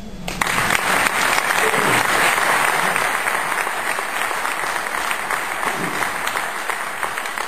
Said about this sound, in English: Worth an applause.